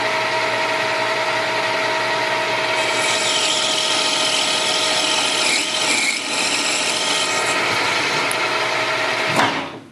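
A metal lathe takes a 3 millimetre cut off a workpiece, its motor holding a steady, loud tonal hum while the cutting adds a rougher hiss partway through, before the tool pulls away near the end with a brief clank. No one speaks.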